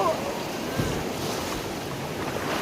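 Sea waves wash onto Diveagar beach on the Konkan coast, a continuous surf roar with gusty wind buffeting nearby.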